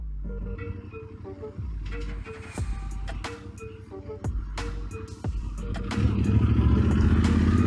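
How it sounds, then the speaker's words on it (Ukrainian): A Yamaha motorcycle, started after winter storage with a recharged battery, cranks with sharp clattering bursts before catching and settling into a louder, steady running idle. "І мотоцикл завівся дуже нормально."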